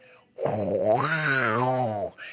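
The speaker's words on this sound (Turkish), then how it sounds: "Nasıl horlama ya?" A sleeping villager in a video game lets out one long, loud, groaning snore that rises and then falls, close up and alone.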